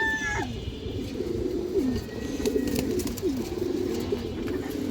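A female pigeon of a fancy breed coos in soft, repeated low rolling phrases, steady and close, with faint background noise and no talking.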